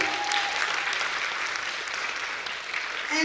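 An audience applauding at a talk-show style community event, a dense, sustained burst of clapping from many hands that stays loud throughout.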